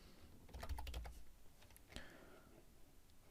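A burst of quick keystrokes on a computer keyboard, a short cluster of close, soft clicks followed by a single tap and then quiet.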